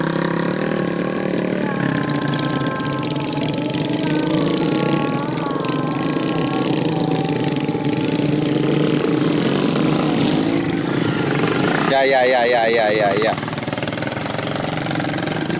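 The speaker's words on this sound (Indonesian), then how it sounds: "Motor rakitan dengan dimodifikasi menjadi motor trail pengangkut padi" A homemade Honda motorbike, modified into a trail bike for hauling rice, runs its engine in a rice field, a steady idling drone with a brief revving burst near the end. People talk over it throughout.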